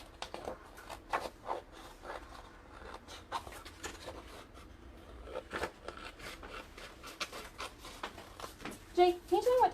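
Scissors or a blade trim decorative tree-patterned paper to fit the front of an envelope. A quick series of small snips and scrapes runs close, mixed with handling rustle and brief voices.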